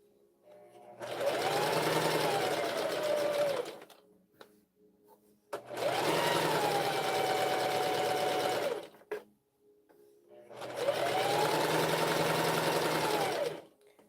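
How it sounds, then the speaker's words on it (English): Sewing machine stitching a rainbow jumpsuit: three steady, close-up runs of rapid mechanical whirring, each lasting about three seconds, separated by short pauses. "Feel funny sewing with this. I don't normally sew with this machine."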